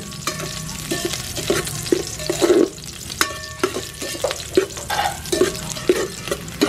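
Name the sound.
sautéing onions in a pan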